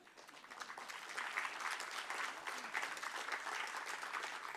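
A seminar audience applauds in a hall, a sustained wash of many hands clapping that swells slightly and holds steady for several seconds, fairly distant with no voices over it.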